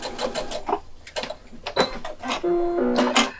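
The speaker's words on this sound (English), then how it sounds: "So just quickly sew down that seam allowance there." A sewing machine stitches down a seam allowance on H640 fabric, running in short bursts with a steady mechanical hum and clatter, close and fairly loud, with pauses between runs.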